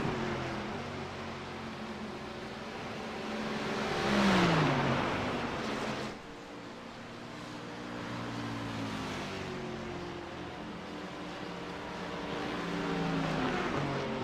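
Mercedes-engined GT3 race cars roar down the long Le Mans straight, a steady engine drone with a rising pass around the middle, one car's pitch sweeping down as it goes by, then settling into a sustained, moderately loud hum.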